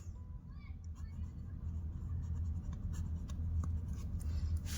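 A pen scratches out math equations on paper for a class 10 linear equations lesson, giving soft, close, irregular strokes over a low steady hum, while someone speaks Hindi throughout.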